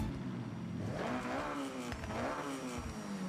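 A Honda S2000 engine in a Japan-set racing video game revs steadily up and down, loud and close, with the sound echoing off surrounding buildings.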